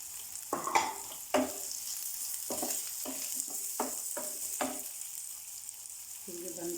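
Carrot and finely chopped onion stir-fry for chicken vegetable rolls, a steady sizzle of frying broken by repeated scraping strokes of a spatula in the pan, fairly close.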